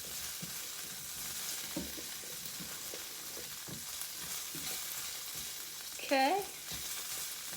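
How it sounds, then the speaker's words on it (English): Strips of bacon sizzle steadily as they render in a pan beside cooking grits, a constant crackling hiss with occasional pops, and a short squeaky scrape near the end as a piece is turned; someone says a brief word. "This bacon is continuing to render while those grits are cooking."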